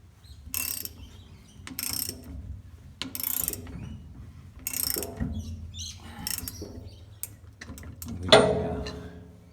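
Ratchet undoing caked-up bolts on grass slasher blades, several separate bursts of metallic ratcheting spaced a second or so apart, close, ending with a louder clunk.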